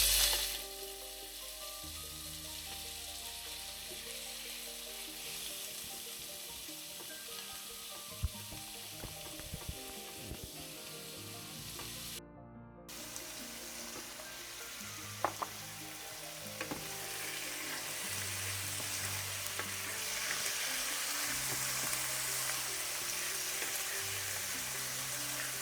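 Small chicken breast pieces fry steadily in olive oil, a close, continuous sizzle with occasional stirring clinks and a few sharp pops.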